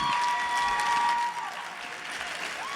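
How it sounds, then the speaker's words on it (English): Sustained applause from a crowd at a State of the City event cheering young ladies and gentlemen, steady and full at first, then easing slightly in loudness toward the end. "Big round of applause for these young ladies and gentlemen,"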